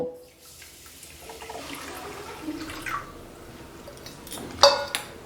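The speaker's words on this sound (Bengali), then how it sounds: "এবার এই মেজারিং কাপেরই 2 কাপ পরিমাণ জল আমি এখানে দিয়ে দেব।" Water is poured into a kadai holding sugar, a close, moderately loud pouring and splashing that builds gradually, with a sharp clink of the vessel near the end and no talking.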